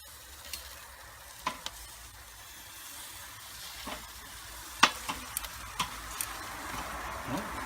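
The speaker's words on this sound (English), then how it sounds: "Render some of that fat down." Bacon-wrapped shrimp skewers sizzle steadily on a grill, fat rendering with a soft continuous hiss broken by scattered crackles and pops, close and fairly quiet with no voices.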